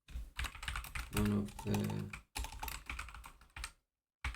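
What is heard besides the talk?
typing on a computer keyboard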